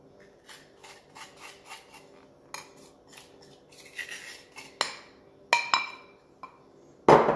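Butter and sugar for a lemon cake being mixed in a bowl, heard as a series of short scraping and clinking utensil strokes, close and quiet at first, then growing sharper and louder toward the end.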